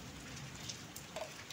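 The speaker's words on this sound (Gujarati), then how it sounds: "વીજળી થાય છે અને વરસાદ એ ફૂલામ ફૂલ આવે છે." Heavy rain pours down onto a flooded residential street during a thunderstorm, a steady dense hiss of drops hitting the surface with scattered louder splashes, close and continuous with no talking.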